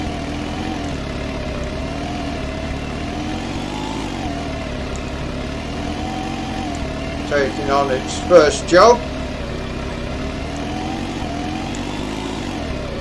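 A new 5610 tractor drilling spring wheat in a field, its steady engine drone running loud and continuous throughout, with someone talking over it and a few brief clattering bursts partway through.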